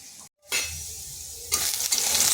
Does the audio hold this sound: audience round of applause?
no